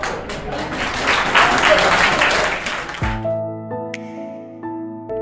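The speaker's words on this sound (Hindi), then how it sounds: "ताली तो बजाते हो" An audience of journalism students and guests at a lecture event claps loudly for about three seconds, then the applause cuts off abruptly and a sustained electronic tone with chime-like notes follows alone.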